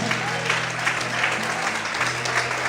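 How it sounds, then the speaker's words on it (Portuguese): Congregation applauding during an evening church service, a sustained wash of clapping from a crowd with a steady tonal hum underneath, with no clear individual claps standing out. "Aplaude e exalte esse Deus nessa noite."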